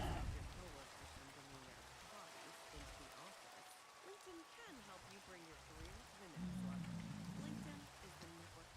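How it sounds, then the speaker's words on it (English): Rain falls in a modded Minecraft survival game, a steady hiss of pattering drops running throughout beneath a voice talking. "And this rain is also starting to get annoying."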